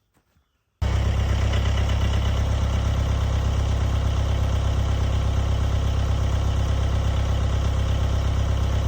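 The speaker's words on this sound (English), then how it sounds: "I would normally just leave that tractor running, but it's loud." A tractor engine starts abruptly and then idles loudly and steadily nearby, a deep, even rumble with a rapid knocking pulse.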